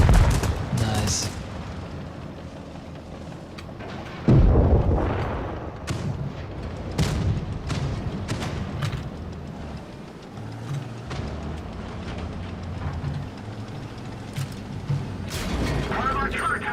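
Tank battle in a video game, with heavy cannon booms, scattered gunshots and explosions, and rumbling vehicle mechanisms throughout, one loud blast standing out midway, while players talk over the action.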